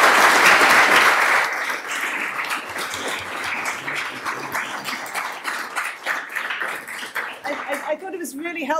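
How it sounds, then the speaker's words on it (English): An audience at an LSE Festival panel on net zero applauds the speakers with dense, sustained clapping that is loudest at first and continues steadily, ending with a voice starting to talk. "Maybe a round of applause for all our speakers."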